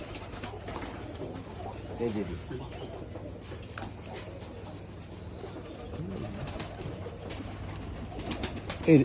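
Giribaz pigeons from Rajshahi coo softly in a low, repeated murmur throughout, with faint bird calls and light background voices around them.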